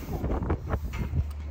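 Low rumbling wind buffets the microphone throughout, steady and close, with a few gusty swells.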